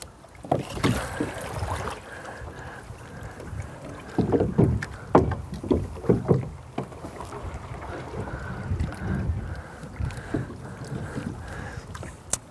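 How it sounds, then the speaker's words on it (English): Wooden knocks and thumps of a small rowboat shoving off, with water sloshing and gusty wind noise on the microphone. "I shove away from the dock here."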